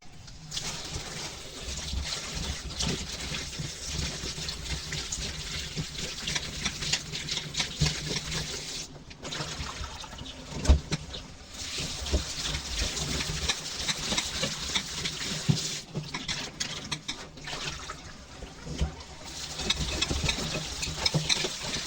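Dried jujubes are swished and rubbed in a bowl of water, a steady close wet rustle and patter with brief pauses, no talking.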